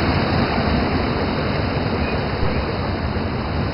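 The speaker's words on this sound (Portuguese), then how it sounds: "Assim na cachoeira da Eubiose." Steady broadband roar of the Eubiose waterfall at São Thomé das Letras, a dense continuous rush of falling water heard close and alone with no voices.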